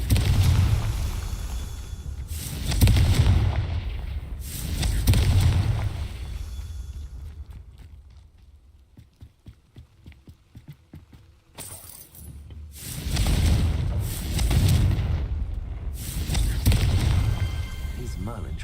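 Fantasy blasting-spell explosions in the Hogwarts Legacy video game, heavy booming bursts landing in a steady cluster, a quiet lull, then another run of loud blasts.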